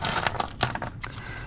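Scrap metal keys, some still on rings, clink and jingle as they are sorted and dropped into a pile, several bright metallic taps in quick irregular succession, close by.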